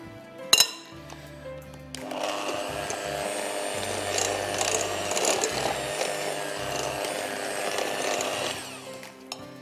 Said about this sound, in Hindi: And now I am going to use my beater.